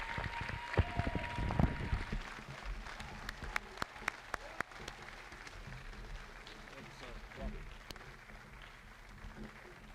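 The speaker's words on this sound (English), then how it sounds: "Please join me in a round of applause for Firefighter Trevor Rogers" Applause from an evening public safety awards audience in Richmond, California, honoring a firefighter: a burst of clapping that peaks early, then settles into steady sustained applause with scattered sharper claps and faint voices in the crowd.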